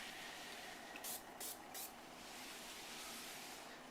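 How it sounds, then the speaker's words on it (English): Granite sealer is spritzed onto a countertop from a spray bottle, three quick close hissing puffs standing out over a steady background hiss. "all we're going to do is spritz it on"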